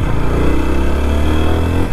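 A TVS Apache RTR 160 4V motorcycle engine pulls and accelerates, a loud, close, continuous buzzing drone that rises steadily in pitch.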